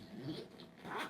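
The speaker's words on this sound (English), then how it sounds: "okay, so here is where the zipper is for the expansion" A zipper on the expansion section of a Fyro T22 backpack is pulled open, giving a short, quiet, close-up rasping run with no talking.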